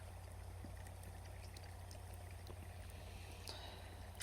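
Malt vinegar pours in a faint, continuous trickling stream, quiet and close, over a low background hum.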